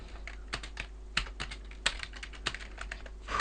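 Code is typed on a computer keyboard in irregular quick clusters of crisp close key clicks, with short pauses between runs.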